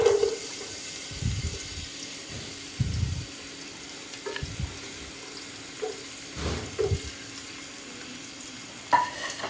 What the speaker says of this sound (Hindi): और ये चॉप की हुई प्याज डाल लेंगे।